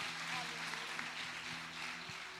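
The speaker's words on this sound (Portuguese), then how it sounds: "Vamos aplaudir a Nara." A church congregation claps during a Sunday service, a steady wash of applause with a voice briefly heard beneath it.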